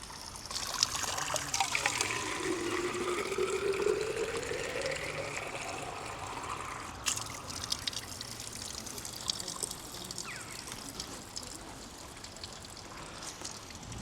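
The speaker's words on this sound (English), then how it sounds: "And it's fresh, clean drinking water, so let's fill it up." Warm spring water from St Anne's Well in Buxton trickles steadily into a bottle, a close, continuous splashing that runs for about ten seconds before settling into a softer flow.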